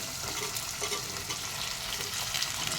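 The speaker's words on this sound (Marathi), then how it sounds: "मस्त ह्याला पण थोडंसं आपण तेलामध्ये फ्राय करून घेऊ" Carrot, cauliflower and potato pieces fry in hot oil in a pan, giving a steady, close, dense sizzle with no pauses.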